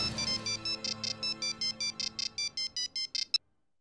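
A phone ringtone plays while a call is being placed: a steady run of rapid, evenly spaced electronic beeps, clear and close. It stops abruptly when the call connects.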